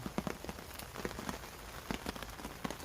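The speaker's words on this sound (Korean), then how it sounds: "아침부터 지금까지 며칠 전에도 비가 계속 왔고요" Rain falls on a rainy March day in Korea: a faint, steady patter with scattered soft drips, continuous and even throughout.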